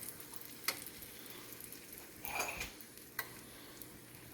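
Egg mixture for a Western omelet sizzles faintly in a pan over a stovetop flame, a low steady frying hiss broken by a few soft clicks and one brief louder burst of crackle partway through.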